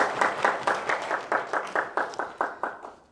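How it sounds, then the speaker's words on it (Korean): A congregation at a Korean Baptist church service in Arkansas claps together in steady unison, about a dozen even beats in quick succession that fade slightly toward the end. "큰 함성 소리와 함께 하나님께 영광의 박수 올리겠습니다"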